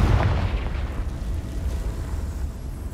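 Spell explosion from the Confringo blasting charm in the video game Hogwarts Legacy, a heavy booming burst that rolls on as a dense, sustained low rumble for several seconds.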